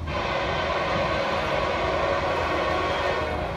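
A Norfolk Southern intermodal freight train passes close by at Cornelia, Georgia, with a loud, continuous broadband roar of rolling wagons that stays steady throughout.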